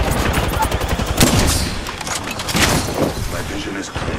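Rapid bursts of gunfire from the video game Apex Legends, dense and continuous, with in-game character voice callouts over the shooting.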